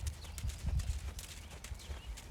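Quick, uneven clip-clop of horse hooves on firm ground, close by, with a steady low rumble underneath and no voices.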